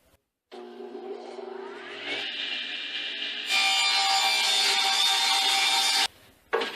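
A saw cuts through leftover half-inch plywood in one steady pass, the whine rising as the blade bites in and holding loud for about five seconds before spinning down, with no talking.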